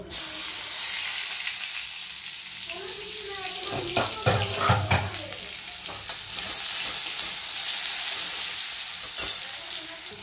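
Onion fries in oil in a wok with a continuous sizzling hiss, punctuated midway by a burst of clattering and stirring before the steady frying resumes.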